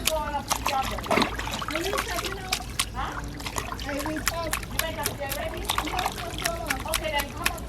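Naturally hot spring water is poured and trickles over a person's legs on Nevis, a steady splashing dribble under continuous nearby talk and voices.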